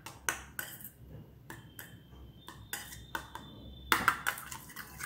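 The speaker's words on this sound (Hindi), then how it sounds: "ये तीनों इंग्रेडिएंट्स आप अच्छे से मिक्स कर लीजिए।" Orange peel face pack ingredients stirred together in a bowl, giving scattered clinks and scrapes of a utensil against the dish with brief pauses, close and fairly quiet.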